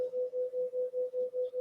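Pure tones at 500 Hz and 505 Hz sound together, giving a continuous hum that pulses quickly at five beats per second, steady and even throughout.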